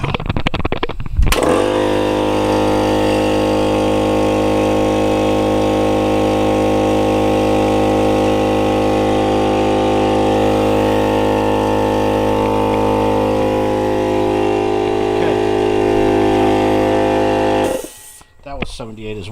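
A 13-year-old air compressor kicks on and runs for about sixteen seconds, a loud steady motor drone with a strong low hum, then cuts off, followed by brief talk.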